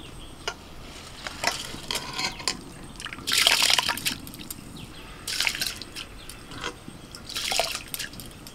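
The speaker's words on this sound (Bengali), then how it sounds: "জল গরম হয়ে গেছে, চাল ডাল সব তুলে দিচ্ছি" Rice and lentils tipped into hot water for Bengali khichuri, giving a few short bursts of splashing and pouring, close and fairly soft, with trickles and drips between them and no talking.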